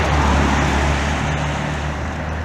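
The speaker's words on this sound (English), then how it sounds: "A little traffic going there." Steady road traffic rumbling past in Baraboo, Wisconsin, a continuous broadband wash of tires and engines at moderate distance with no gaps or talk.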